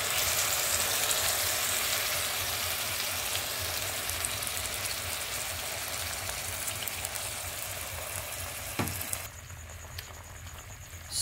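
Bicol Express pork simmering with coconut milk and soy sauce in a pan, a steady close bubbling sizzle with no voices, a brief clink near the end before it quiets.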